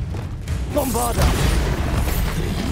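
Bombarda explosive spell cast in Hogwarts Legacy, a booming blast with crackling, ringing debris over heavy low rumble, loud and sustained through the moment.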